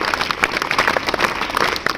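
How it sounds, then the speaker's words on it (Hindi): A school results and prize-giving ceremony audience claps together, a dense, continuous patter of many hands at moderate level throughout. "ताली बजा करके"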